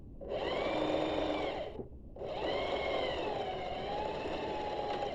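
Sewing machine stitching pants fabric, a steady close whirring hum in two runs separated by a short pause, with motor pitch shifting slightly as it sews.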